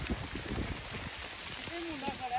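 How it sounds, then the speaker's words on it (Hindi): Heavy rain and hail pour down during a thunderstorm in the Kashmir mountains near Arang Kel, a dense, steady hissing wash with scattered patters while people talk over it. "जब बहुत तेज बारिश और ओले पड़ रहे हैं"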